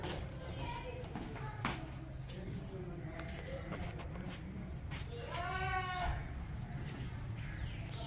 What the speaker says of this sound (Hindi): ये बकरा देखें भाई, बहुत ज़बरदस्त किस्म का बकरा है